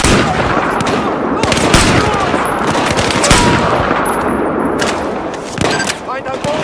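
Gunfire from the video game Battlefield 4 in a mission set in Baku: dense, continuous bursts of shots and thuds fill the whole stretch, with voices talking over the din.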